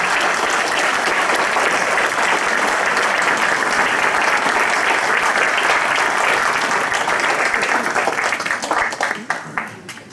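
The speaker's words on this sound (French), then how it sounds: "je pense qu'on peut applaudir tous les acteurs financiers" Sustained audience applause at a village hall inauguration in Hélette, dense and steady throughout, thinning and fading out near the end.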